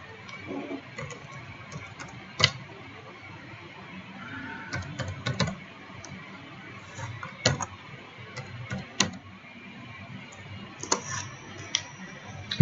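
A command is typed on a computer keyboard at an MS-DOS prompt, with irregular clusters of light key clicks and a few sharper, louder keystrokes in a quiet room.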